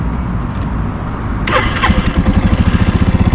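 A Suzuki TU250x motorcycle, freshly serviced with an oil change, starts with a sudden cranking catch and bursts into a close, steady, throbbing idle that pulses evenly until the end.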